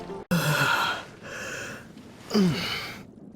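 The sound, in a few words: character yawning in the video game Genshin Impact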